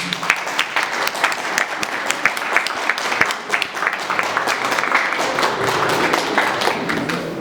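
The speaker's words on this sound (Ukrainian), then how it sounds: "Тож давайте оплесками привітаємо ювіляра з днем народження." Audience at an art exhibition opening applauds a painter on his 65th birthday, steady sustained clapping from a crowd in a room with individual sharp claps standing out, swelling slightly and continuing throughout.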